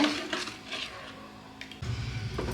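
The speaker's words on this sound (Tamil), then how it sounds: "ஒரே சைடாக கிளறிட்டே இருப்போம்" Thick kali dough is stirred in a pressure cooker pot, giving a few metallic clinks and scrapes of a utensil against the pot's side, close and fairly loud, then a duller thud near the end.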